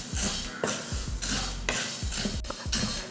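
Coriander seeds being stirred while dry roasting in a pan, a spoon scraping and clinking against the metal in regular strokes, close and fairly quiet, with the dry seeds rustling between strokes.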